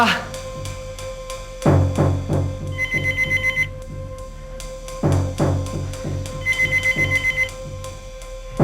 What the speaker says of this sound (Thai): โทรศัพท์เจดังด้วยนะครับ